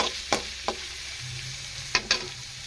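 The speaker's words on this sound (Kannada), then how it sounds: "ಇದು ಕಲರ್ ಚೇಂಜ್ ಆಗೋವರೆಗೂ ಚೆನ್ನಾಗಿ ಫ್ರೈ ಮಾಡ್ಕೊಳ್ಳೋಣ." Fish roe fries in a pan with a low steady sizzle, punctuated by a few sharp scraping stirs of a utensil against the pan.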